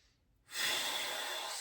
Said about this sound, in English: Take a big breath here